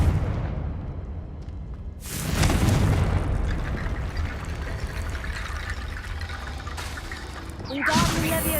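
A Confringo fire spell exploding in the video game Hogwarts Legacy, a loud booming blast that rumbles and roars on for several seconds, then a second burst near the end, with no talking.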